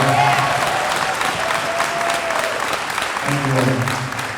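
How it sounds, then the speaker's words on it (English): A high school honors night audience applauds the teachers with sustained, dense clapping filling an indoor hall, while a voice speaks briefly over it. "let's give our teachers a round of applause"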